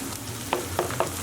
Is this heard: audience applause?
no